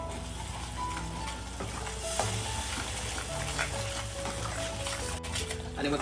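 Whole-spice masala paste sizzling steadily in hot oil in a home kitchen, with soft stirring scrapes and a continuous crackle throughout, no talk.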